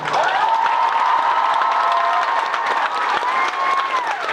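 Concert audience at the Beacon Theatre in New York City applauding and cheering for a drummer, a dense, loud, continuous wash of clapping and shouts sustained throughout with whoops rising above it.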